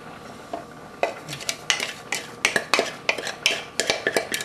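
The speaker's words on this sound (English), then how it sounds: "And make sure to stir it so that you don't get clumps." A utensil scrapes and knocks rhythmically against a pot while polenta is stirred, a steady run of close, crisp clinks and scrapes with no talking.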